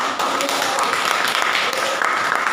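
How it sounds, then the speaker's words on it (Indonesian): Classroom applause during a microteaching session, a short burst of dense, even clapping from a group of students sustained across the whole moment. "tepuk tangan untuk semua"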